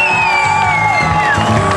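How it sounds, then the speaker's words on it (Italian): Audience at a cosplay award ceremony, the COSPLADYA 2009 prize-giving for Actarus and Goldrake costumes, applauds and cheers as a steady, dense crowd roar with whoops over it, loud and continuous throughout, with music-like tones mixed in. "Il vostro applauso!"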